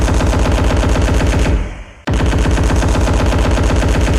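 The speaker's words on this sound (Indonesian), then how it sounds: "Padahal itu adalah suara tembakan dari kelompok nomaden tersebut." Rapid automatic gunfire blasts loud and continuous, briefly cutting off for a moment before the sustained burst resumes just as intensely.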